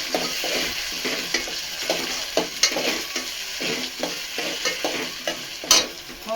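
Chopped onion, green chilli and tomato fry in a pan, a constant close sizzle broken by repeated rhythmic scrapes and clacks of a spatula stirring, with one sharper knock near the end.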